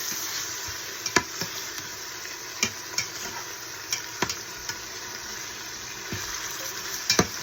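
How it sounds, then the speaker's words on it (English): Chicken pieces lightly browning in a pan for chicken noodle soup, a steady soft sizzle with scattered sharp ticks and pops from the pan, close and moderately quiet, no talking. "Yeah, just lightly browning it."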